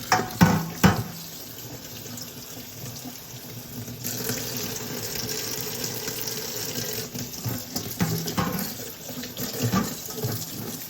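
Tap water runs steadily into a kitchen sink while collard greens are rinsed, a continuous close splashing with a few louder handling bumps near the start, no talking.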